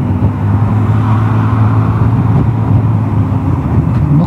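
A Vespa GTS 300 scooter fitted with Tech Pulley variator rollers accelerates smoothly on the road, making a loud, even engine drone with steady low hum and wind noise, and no rough or uneven patches.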